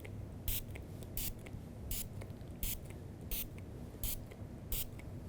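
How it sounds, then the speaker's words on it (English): A spray bottle mists water onto a glass pane in seven short, evenly spaced bursts over a steady background hiss. "So the next stage would be to spray some more water on the glass and grab some more images."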